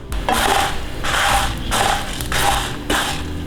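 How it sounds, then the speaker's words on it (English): Curry leaves and whole spices dry roasting in a pan for mutton sukka, heard as four or five rhythmic scraping strokes of stirring, close and fairly loud, with no talking. "now let's dry roast all of these ingredients till it turns light brown"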